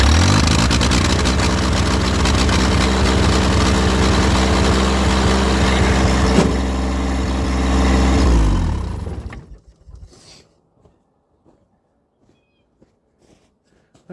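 Cold diesel tractor engine running with a steady, loud, close chugging idle for about eight seconds, then cut off abruptly, leaving near silence with faint scattered clicks.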